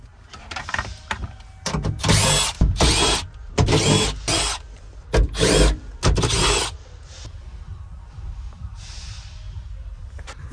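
A power tool runs in several short bursts, loosening the bolts on a Toyota Sequoia trunk cover plate, loud and close, then falls quiet.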